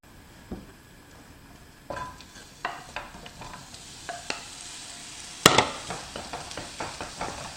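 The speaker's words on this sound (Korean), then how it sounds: "양파는 중간 불이나 약한 불로 볶아주세요." Onion being stir-fried in about a tablespoon of oil in a pan over medium-low heat for Korean spicy squid stir-fry, with intermittent scraping and stirring knocks over a soft, steady sizzle, alone without talk.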